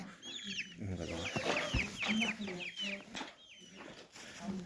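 Several chickens cluck and chirp close by in busy, overlapping bursts, with a brief thump partway through.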